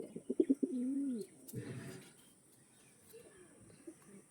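Close pigeon cooing, a throaty burst of several coos followed by a softer rustle and faint cooing in the background.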